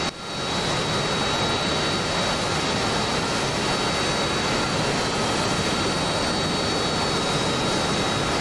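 Wheezy jet engines of an aircraft in the DCS flight simulator, a loud steady broadband roar with a thin high whine that holds unbroken for the full length.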